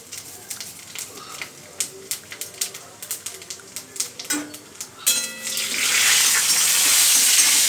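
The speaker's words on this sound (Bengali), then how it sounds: "আমি পুঁইশাক ঘন্টর ফোড়নটা দিচ্ছি" Whole five-spice seeds, dried red chilli and bay leaf hit hot oil for a tempering: irregular sharp pops and crackles at first, then a loud continuous sizzle swelling over the last few seconds.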